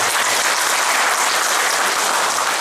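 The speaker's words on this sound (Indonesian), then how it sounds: "Tepuk tangan untuk Pak." Steady applause from an audience at a hospital event, dense continuous clapping filling the hall at an even, loud level with no voices over it.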